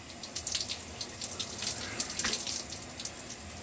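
Tap water running steadily as soap is rinsed from a beard with liquid black soap, a close hissing splash with irregular splatters as hands work through the water, no speech.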